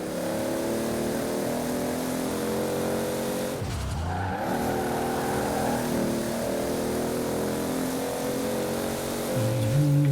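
A Toyota Supra's engine in the racing game Forza Horizon 4 in winter, a steady droning engine note with a brief downshift dip and tyre skid midway, continuous and close.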